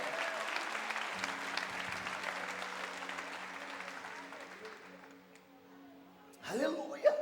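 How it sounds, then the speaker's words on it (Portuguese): A church congregation applauds during a sermon, a fairly distant, steady clapping that gradually fades out over five seconds, followed by a voice speaking near the end. "Aplauda o Senhor."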